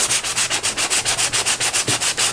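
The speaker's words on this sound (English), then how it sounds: "I'm just gonna scrape all this off" Quick, rhythmic scraping strokes rasp across a mixed-media journal cover as material is scraped off, steady back-and-forth rubbing, close and fairly loud, with no talking.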